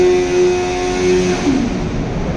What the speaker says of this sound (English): So bring those revs up there.